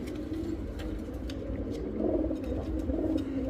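A female pigeon coos in a loft, a low, steady, throaty murmur that continues without a break and swells a little toward the end.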